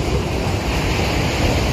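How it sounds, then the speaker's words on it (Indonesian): Ocean waves wash steadily onto a beach along Indonesia's southern coast road, a continuous broadband roar of surf mixed with wind buffeting the microphone, with no talking. "dan kita dikelilingin pantai."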